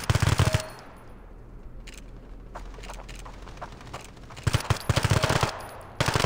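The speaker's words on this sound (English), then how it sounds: "Kick on this gun is absurd." Rapid automatic gunfire from a weapon in the mobile shooter game Standoff 2, with loud bursts at the start and again near the end around a quieter stretch of scattered single shots.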